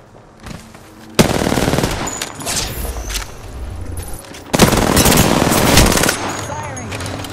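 Automatic gunfire in Apex Legends, two loud sustained bursts of rapid shots separated by quieter game noise, close and intense, with brief voice callouts around them.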